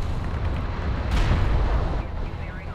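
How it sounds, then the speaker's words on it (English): A gunship attacking in the Homeworld: Deserts of Kharak real-time strategy game, heavy rumbling barrage of booming fire swelling midway, dense and continuous rather than distinct shots. "I hear the gunship trying to do its nasty work over there on the main."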